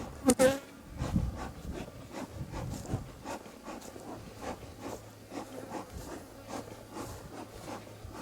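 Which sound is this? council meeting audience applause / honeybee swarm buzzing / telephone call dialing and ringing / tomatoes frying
honeybee swarm buzzing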